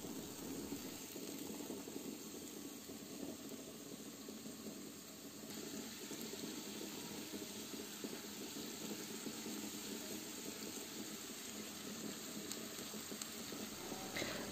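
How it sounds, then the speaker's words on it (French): Onion and peppers fry in vegetable oil in a pan, giving a steady, even sizzle and hiss that continues without a break, close and moderately loud, with no talking. "dans cette poêle, je vais faire venir l'oignon avec les poivrons en couleur, en ajoutant bien sûr un peu de l'huile végétale"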